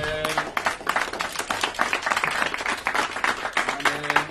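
A church congregation bursts into loud, sustained applause and clapping, dense overlapping hand claps with a few cheering voices mixed in.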